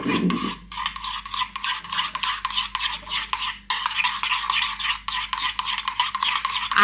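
A dessert spoon stirs a honey, garlic and parsley marinade in a bowl, giving rapid, rhythmic scraping and clinking strokes, close and continuous with a brief pause midway.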